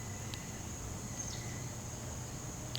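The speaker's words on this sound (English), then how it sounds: "You hear the crickets?" Crickets chirp outdoors on a calm, peaceful day, a faint steady high trill that runs throughout with no voices over it.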